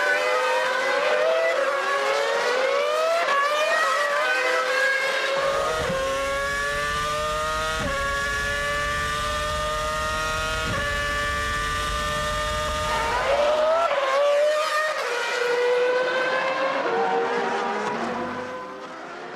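Formula 1 cars racing at Monza in 2006, a loud howling engine note rising through the gears, with several cars screaming past one after another, high and sustained in the foreground.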